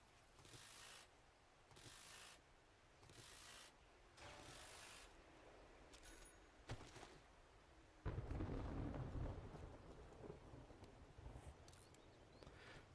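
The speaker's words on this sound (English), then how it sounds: "Random storm." A thunderstorm in the video game 7 Days to Die opens with faint, evenly spaced rumbling bursts. A louder, deep roll of thunder then breaks in and fades slowly.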